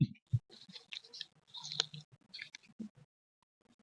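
Crunchy cheese puff from a local bakery being bitten and chewed up close in a park, giving a string of crisp crunches and soft mouth clicks over about four seconds, with no talking.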